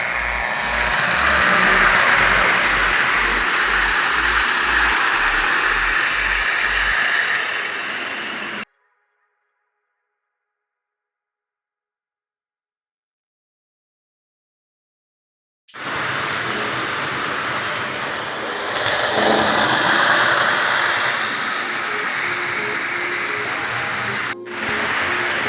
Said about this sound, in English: So like all these engines, it's so loud, but we gonna give this a run too.